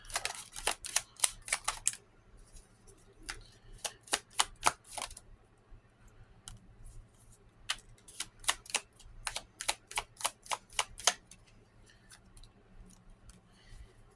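Tarot cards are shuffled by hand in two bursts of quick, crisp riffling clicks, close up and fairly quiet, separated by a brief pause with a few scattered taps.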